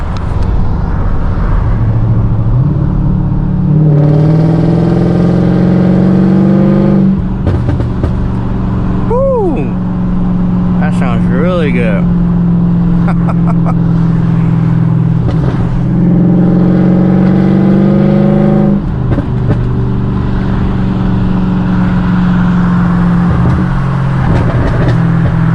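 A Mercedes CLK500 fitted with DynoMax Race Bullet mufflers pulls hard on a busy road, its loud engine note rising and falling in several long drawn-out accelerations with brief lulls between them.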